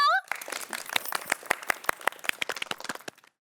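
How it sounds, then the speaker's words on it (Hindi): Scattered audience clapping, a run of distinct separate claps at moderate volume that thins out and stops, following a brief burst of sound at the start. "तालियां।"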